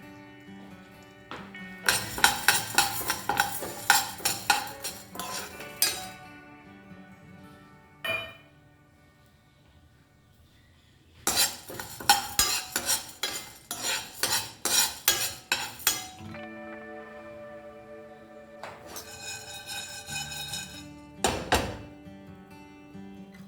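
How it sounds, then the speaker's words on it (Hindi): Chana dal dry roasting in a pan, heard as bursts of rattling, scraping stirs and clinks of a spoon against metal, separated by quiet pauses, close and without talk. "सबसे पहले मैं रोस्ट कर देती हूँ 2 चम्मच चना दाल।"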